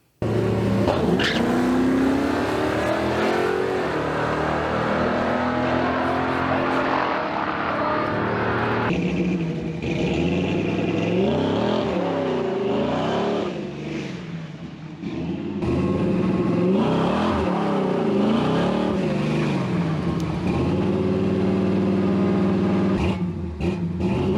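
A 1969 Dodge Super Bee on mono leaf springs roars loudly through a test drive on asphalt, its engine revving and shifting with tire spin, close and continuous with no talk.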